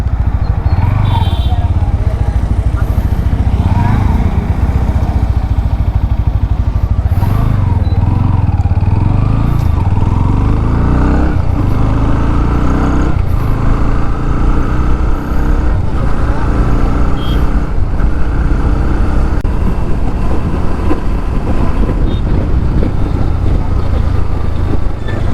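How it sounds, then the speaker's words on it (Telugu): A 2024 Bajaj Pulsar NS 160 motorcycle with BS6 Phase 2 engine is revved to full RPM, giving a loud, sustained exhaust roar that rises and holds close by, with talk partly underneath. "ఎగ్జాస్ట్ సౌండ్ వినండి మీరు ఒకసారి ఫుల్ ఆర్పిఎంలో."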